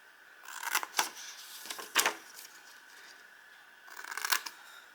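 Paper being cut with scissors to make an envelope, heard as a few short, crisp snips and rustles spaced apart, close and fairly quiet, with no talking.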